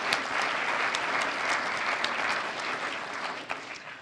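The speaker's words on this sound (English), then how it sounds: "Let's give these wonderful young people a round of applause." Steady applause from an evening lecture audience fills the room, dense and sustained for about four seconds before thinning slightly at the end.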